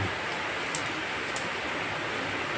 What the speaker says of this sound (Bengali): আজকে কি বিশাল বৃষ্টি হচ্ছে ভোরবেলা থেকে।